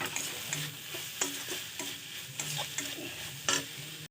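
Spice paste for red lentil dal being fried down in a pan, heard as repeated scraping strokes of a spoon over a soft, steady sizzle, close and moderately loud, with no talking.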